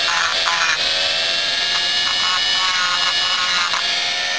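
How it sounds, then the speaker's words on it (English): A Dremel rotary tool grinds a two-stroke engine port with a continuous, high-pitched whining buzz, loud and steady throughout with slight pitch wobbles as it works the metal. "I'm doing it with a Dremel because you're probably going to do it with a Dremel"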